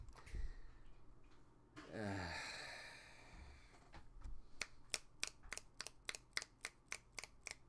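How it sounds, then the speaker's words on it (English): About a dozen crisp finger snaps ring out one after another in a loose, quick rhythm, close and sharp, following a breathy sigh. "Finger snaps all around."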